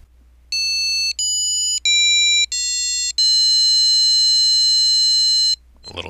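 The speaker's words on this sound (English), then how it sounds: "A little tone beeps telling me" A sequence of bright electronic beeps: four short tones in quick succession, then one long sustained tone, clear and loud against a quiet background.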